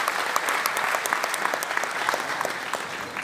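A hall audience at an anniversary gathering breaks into strong, sustained applause to welcome a ballad singer and his troupe, dense, close clapping with sharper individual claps standing out across the whole stretch.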